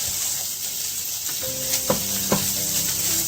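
Diced pancetta renders in a hot pan with a steady bright sizzle and crackle, a few sharp pops and stirring scrapes breaking through, no one speaking.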